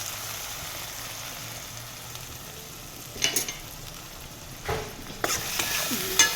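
Mashed boiled brinjal bharta cooks in a pan with a low steady sizzle, broken by a few distinct scraping stirs of a spoon toward the end, close and moderately quiet with no talking.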